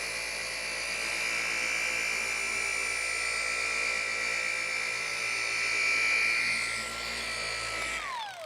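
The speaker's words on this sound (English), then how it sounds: "Love these little cordless tools." A small cordless detailing tool whines steadily at a high pitch, holding a constant tone for several seconds and then winding down sharply at the end, with no talk.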